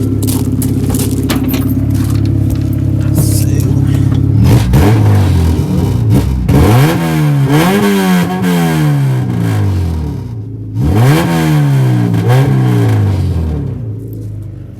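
A race car engine, first a loud steady idle, then repeated sharp revs that climb and fall in sweeping whoops, close and very loud, fading toward the end.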